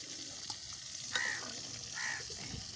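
Food sizzles in a hot pan with a constant crackling hiss, broken by a couple of brief scraping stirs.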